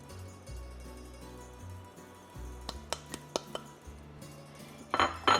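A spoon scrapes and clinks against a pot holding olive oil, crushed red pepper, salt, oregano and black pepper, with a run of sharp metallic taps near the middle and louder scraping at the end, close and alone.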